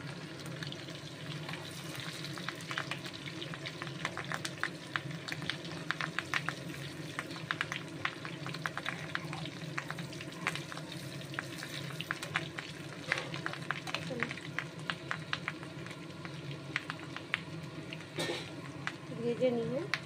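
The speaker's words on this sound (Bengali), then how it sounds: "চলো এই যে ভাজা হচ্ছে" Food frying in a pan in a home kitchen with a chimney hood running, a faint continuous sizzle with scattered crackles and pops over a low steady hum, some brief clinks near the end.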